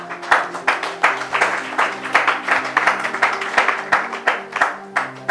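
A church congregation claps in a steady rhythmic beat, sharp regular hand claps repeating about twice a second over sustained music, close and lively.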